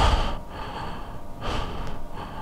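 Heavy, tense breathing heard in a staged fight scene, with sharp gasping inhales and snorting exhales at close range, rising and falling in slow cycles.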